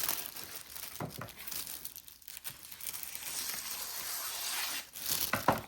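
Dollar Tree notebook paper being torn and crinkled by hand, with a few sharp ripping bursts and rustling between them, close and moderately loud, no talking.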